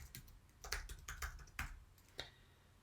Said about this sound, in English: I'm going to type in the person's name.